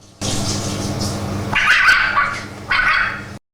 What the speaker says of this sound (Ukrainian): видає звуки, схожі на собачий гавкіт.